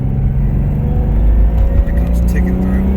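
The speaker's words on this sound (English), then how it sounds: "you can hear the exhaust leak." Big-turbo Toyota 7MGTE engine with an external wastegate and open downpipe, heard from inside the car as a steady low engine drone and rumble; the exhaust-leak ticking is not clearly separable.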